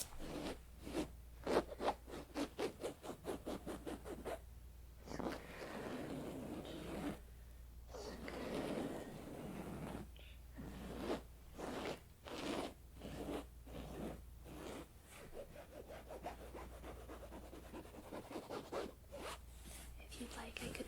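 Fingernails scratching slowly across a shirt on someone's back during an ASMR massage, soft close rhythmic scrapes in repeated bursts, with a quiet voice talking in between.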